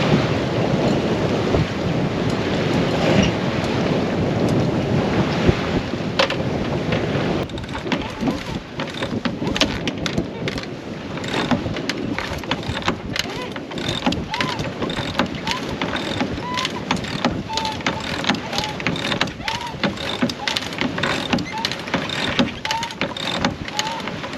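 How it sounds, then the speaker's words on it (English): Old, worn sails on a sailboat out on Chesapeake Bay, with the leech flapping in the wind: a rapid, irregular fluttering and snapping over steady wind rush and water noise, continuous and close throughout. "I think a flapping leech is just part of my reality with these old sails"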